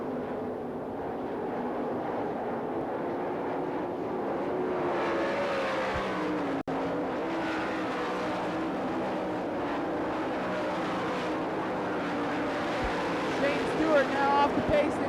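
Sprint cars racing on the dirt oval at the Knoxville Nationals speedway, engines roaring steadily around the track with rising and falling passes, while an announcer calls the race over the loud continuous engine noise.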